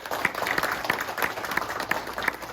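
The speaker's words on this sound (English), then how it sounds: "once again, more applause for Nicole." A small audience at a chamber of commerce junior board presentation in Reedley claps in thin, scattered applause, with individual hand claps standing out distinctly against a quiet room background.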